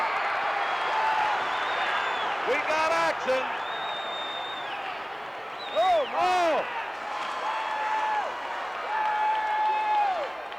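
A wrestling arena crowd roars and cheers in loud swells around the ring while a commentator talks excitedly over the noise.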